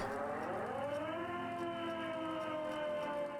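A wailing civil-defense-style siren in the video game Disco Elysium rises in pitch and then holds a steady, sustained tone, moderately quiet and alone without voices.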